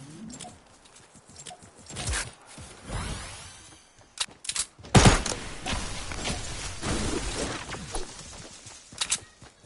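Grenades blasting in a video game fight around a small tower, with a sharp loud burst near the middle standing out among scattered thuds and clatter.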